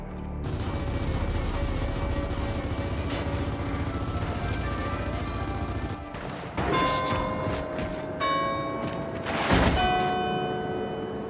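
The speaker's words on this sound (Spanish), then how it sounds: "Las campanadas de punto muerto solo son eso, campanadas." Church bells toll in the Gears of War 4 video game, sustained ringing tones with a sharp break and renewed strikes later, mixed with game gunfire bursts and mechanical effects.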